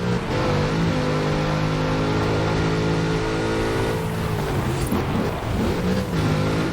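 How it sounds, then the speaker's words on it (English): A big Chevrolet car engine in Forza Horizon 4 roars loud and steady, holding a deep sustained drone with a slight shift in pitch partway through. "Such power in the big Chevrolet engine"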